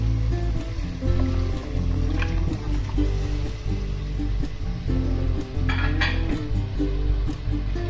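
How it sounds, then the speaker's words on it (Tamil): Cooked mutton tipped into a simmering korma in a pan, a continuous sizzle and bubbling with clinks and scrapes of a spoon against the pan, close and busy, no voices. "இப்போ நம்ம வேக வச்சிருக்கிற மட்டனை வந்து சேர்த்துக்கோங்க."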